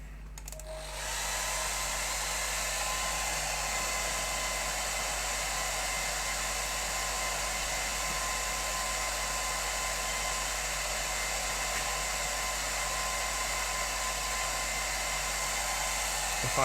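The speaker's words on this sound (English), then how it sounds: "Let me dry it with a hairdryer and let's see." A hair dryer drying watercolour paint switches on and blows continuously with a steady, loud whooshing roar that holds unchanged throughout.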